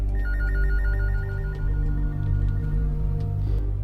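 Telephone ringing in a Cebuano-language drama, an electronic warbling ringtone that repeats continuously and fairly loud over a low steady hum.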